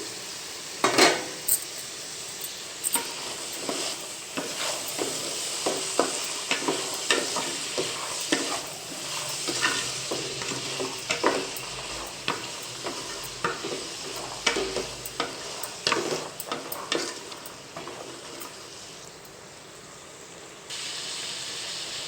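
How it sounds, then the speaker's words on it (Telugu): Boiled chickpeas for sundal sizzling in a pan as a spoon stirs them, a steady close frying hiss broken by repeated scraping and clinking strokes against the metal, with no talk. "ఒకసారి మనము కలుపుకుందాము"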